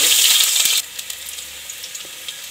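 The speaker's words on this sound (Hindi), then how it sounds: "मैं इसमें डालूंगी 2 बारीक कटे हुए प्याज और इसे भी अच्छे से भून लेंगे" Finely chopped onions drop into oil with whole spices for soya biryani, a loud bright hiss at first that quickly settles into a quieter continuous sizzle.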